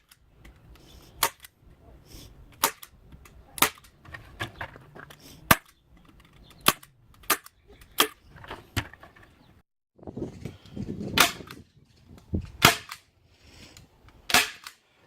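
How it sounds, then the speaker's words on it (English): A staple gun drives staples into a thin wood box one after another, sharp close snaps spaced irregularly about a second apart, with faint handling noise between shots. "I find that's the best for holding the wood together with a staple gun."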